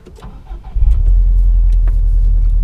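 A 2018 Subaru WRX STI engine cranks and restarts after stalling, catching with a deep, loud rumble that settles into a steady idle close by.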